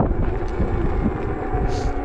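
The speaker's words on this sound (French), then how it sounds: "Il y a du vent de con, du vent du nord là, avec 50 km/h là." Strong cold north wind of about 50 km/h buffeting an outdoor microphone, producing a continuous loud low rumble and roar with steady gusting texture and no speech.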